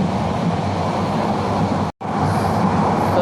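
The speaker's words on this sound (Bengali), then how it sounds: "এখন ট্রেন ছেড়েছে অনেক টাইমই হয়ে গেছে" Inside a moving passenger train bound for Cox's Bazar, a steady loud rumble of wheels and carriage noise fills the cabin, broken by a sudden brief dropout before the drone resumes unchanged.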